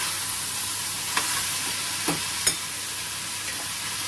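Cluster beans cooking in an iron pan, a constant loud sizzle with a few soft scrapes of a spoon stirring, no voices.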